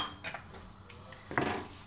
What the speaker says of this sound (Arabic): هاو نحركو مزيان حتى تشرب لينا العطريه مزيان